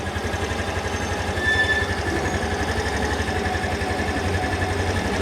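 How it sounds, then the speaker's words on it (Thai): A 2020 Yamaha Grand Filano Hybrid ABS scooter engine idling close by, a steady, even low putter with a light mechanical hum, running smoothly without revving. "เสียงเครื่องเงียบนะครับ เดินเบาก็คือนิ่งเลย"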